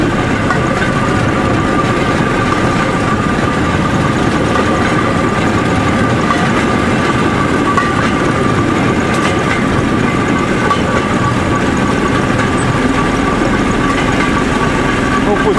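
Narrow-gauge forest railway train riding along the Avnyuga line at around 40 km/h, a steady loud engine rumble with continuous rail rattle and clicking, heard from on board with no pauses.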